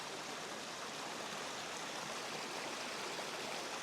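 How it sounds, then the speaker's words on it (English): Creek flowing down from the valley beside a camp, a steady broadband rush of running water, close and continuous without variation, no voices. "This is another creek flowing from up in the valley,"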